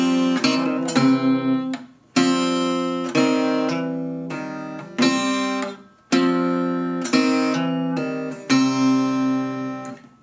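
An acoustic guitar plays a repeating Rollin and Tumblin blues riff on the third string, in crisp plucked note clusters that come in several phrases separated by brief gaps, close and clear with no voices.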